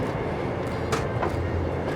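Inside a Russian passenger train under way, a steady rumbling roll fills the carriage, with a few brief sharp clacks and squeaks from the wheels and couplings; no one speaks.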